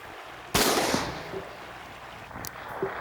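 A single loud, close shotgun blast during shooting practice outdoors, with a decaying rumble, followed by fainter distant pops.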